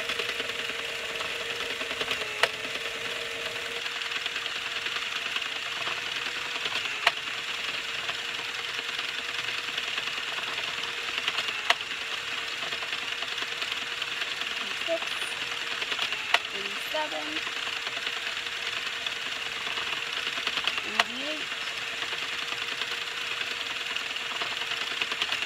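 An Addi King knitting machine with a Kranki adapter, cranked to make a double-layered twist headband, gives a steady low mechanical whir. Sharp clicks recur at regular intervals of a few seconds throughout.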